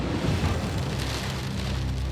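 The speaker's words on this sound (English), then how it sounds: "It's raining pretty good right now." Heavy rain from a storm ahead of Hurricane Isaac on the Florida coast makes a dense, steady rushing wash with low rumbling underneath, continuous and fairly close for the whole stretch.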